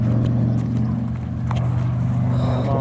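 A B-25 bomber roars loudly overhead during a flyby in Tompkinsville, Kentucky, its deep droning piston engines steady and powerful throughout, with a faint rising whine near the end.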